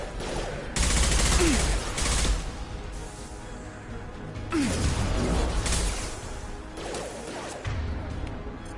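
Impact shot gunfire in Mass Effect 2, several loud bursts of blasting and crashing with whooshing tails, separated by quieter stretches of game ambience.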